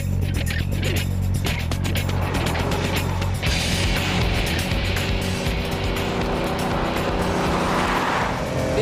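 A Bugatti EB110 sports car drives hard, its engine roaring loudly and changing pitch as it brakes and downshifts, with wind and road noise throughout and a voice faintly under the engine.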